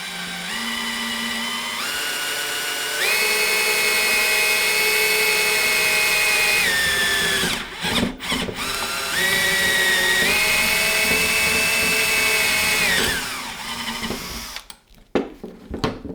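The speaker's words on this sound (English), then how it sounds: "with a little bit of pressure from above on the tube, I'm drilling the hole from the side" A power drill whines at steady high pitch drilling a hole in the side of a tube, speeding up in two long bursts with a short pause between, then stopping with a few clicks; close and loud.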